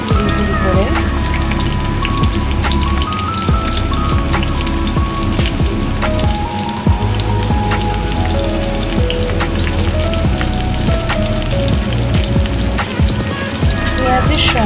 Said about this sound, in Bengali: পেঁয়াজটাকে ভেজে নেব। আমি পেঁয়াজটাকে আগে থেকে কেটে রেখে দিয়েছিলাম ঝিরি করে।